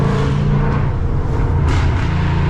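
A Ford Mustang GT's engine roars in a steady, dense, loud rumble at close range, filling the whole moment with no talking.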